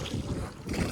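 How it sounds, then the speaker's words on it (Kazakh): Wind blows outdoors in open countryside after rain, a close steady buffeting rumble against the microphone that swells and dips in gusts, with no voices. "Жел."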